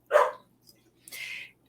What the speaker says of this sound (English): You have to forgive my my cute little neighbor's dog.